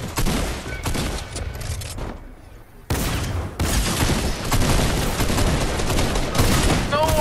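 Gunfire in the video game Bounty Royale: loud bursts of rapid shots, a brief lull, then sustained volleys, with voices talking under the shooting.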